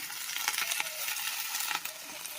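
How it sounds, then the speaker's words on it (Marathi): Fenugreek greens (methi) land in a frying pan with lightly fried onion, setting off a loud, continuous, close sizzle with crackling and rustling throughout. "आपण मेथीची भाजी यामध्ये टाकूया"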